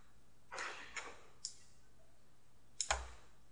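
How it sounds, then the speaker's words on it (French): Faint computer mouse clicks in a quiet room: a few soft, scattered taps, then a sharper pair of clicks near the end. "Et je clique sur « Extraire »."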